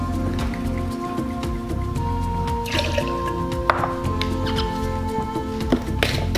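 Banana liqueur poured into a cocktail glass, a steady liquid trickle with small drips and splashes heard up close under a busy background hum.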